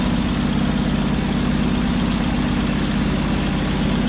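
A 1946 Packard Clipper's 245-cubic-inch L-head inline six idles close by, its recently rebuilt carburetor giving a steady, even, low mechanical hum with no talking.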